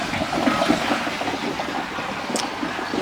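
Water rushes through the temporary plumbing of a DIY wooden pressure washing skid, a steady close gushing and trickling flow that holds fairly even for a few seconds.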